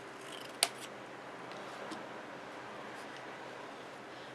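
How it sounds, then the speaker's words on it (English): Scissors cutting a green paper label in half for a handmade card, heard as a single crisp snip near the start, followed by faint quieter rustles against a steady background hiss. "One of them I'm going to cut in half long ways. The other one I'm going to cut in half fat ways."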